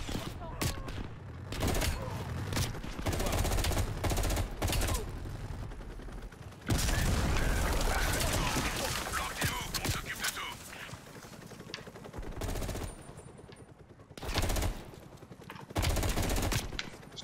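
Bursts of rapid automatic gunfire hammer a wall in the Call of Duty Black Ops Cold War campaign, loud and dense with short pauses between volleys, with mechanical clatter and a speaking voice in between.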